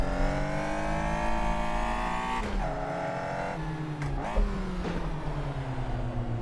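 A Caterham Super7 1700 racing car engine in a racing video game, at Vallelunga, drones loudly and steadily, its pitch dipping and climbing through gear shifts, with brief sharp clicks and a tire squeal.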